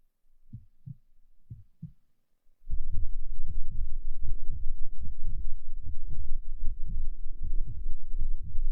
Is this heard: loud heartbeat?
yes